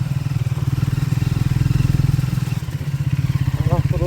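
A motorcycle going off-road uphill on a monsoon track at a Chikkamagaluru viewpoint, its engine chugging and revving steadily and close throughout, with a voice talking over part of it.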